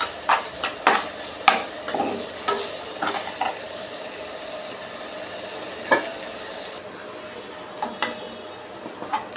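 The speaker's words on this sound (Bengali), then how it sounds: "পেঁয়াজটা ভেজে নেব।" Onions frying in a pan on a home stove, a steady soft sizzle broken by repeated sharp clicks and scrapes of stirring, close and fairly quiet.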